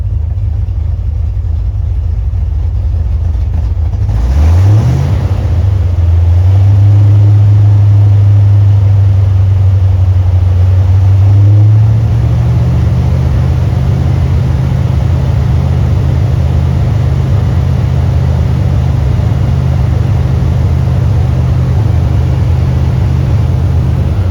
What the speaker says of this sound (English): Let me just rev it a little and check the oil pressure.